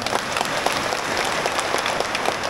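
Dense, steady applause from a church congregation in Huế, Vietnam, filling the whole stretch with close, even clapping and no pauses.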